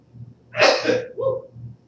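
A single close, sharp sneeze bursts out, followed by a short vocal trailing sound.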